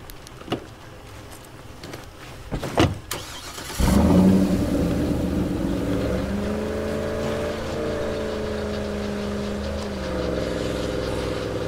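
A battered vehicle's engine drives on in State of Decay 2: a loud, steady mid-pitched drone that begins abruptly after a few scattered knocks and thumps, then holds with slight rises and dips in pitch.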